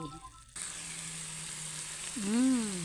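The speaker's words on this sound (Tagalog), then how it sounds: "Sarap ng amoy guys, yung medyo parang napiprito yung balat." Chicken adobo simmering down in its sauce until the skin starts to fry in the pan, giving a steady soft sizzle and bubbling close by, with a brief louder stir or splash near the end.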